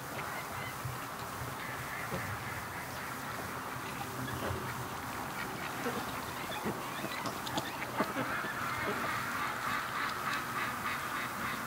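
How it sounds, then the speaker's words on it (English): Brant geese, females, honk at a dock on a frosty-season morning, their calls scattered and overlapping in a steady chorus with water and background noise throughout. "the brant geese are, I guess these are the females"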